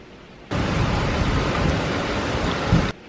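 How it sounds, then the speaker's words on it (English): Steady rain falls outside a shed, a dense even hiss that starts abruptly, holds at constant loudness for a couple of seconds, then cuts off, with no voices. "Still raining."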